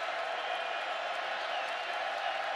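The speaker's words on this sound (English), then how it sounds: "crowd noise has been a problem" A dense, steady roar of a football stadium crowd at a college game, Oklahoma versus Texas Tech, fills the whole stretch loudly and without a break.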